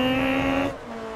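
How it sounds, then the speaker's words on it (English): Ferrari F430 V8 engine in the racing game Forza Motorsport 3, a loud steady droning rev that drops in pitch and volume after about two thirds of a second, with no talk. "I assume this is a V8 then in this Ferrari and not a V12."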